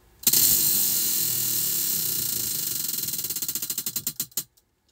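A spin-the-wheel toy whirs into a rapid run of ratcheting clicks that spread further apart as the wheel slows, then stop within a few seconds.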